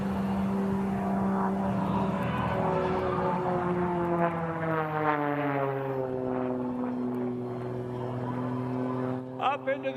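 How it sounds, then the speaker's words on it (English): A propeller aerobatic plane at an air show drones overhead with a strong engine tone that sweeps downward as it pulls through a maneuver, while an announcer talks over the loudspeakers. "Forcing the aircraft, standing the aircraft on its tail, going invisible, and now visible again."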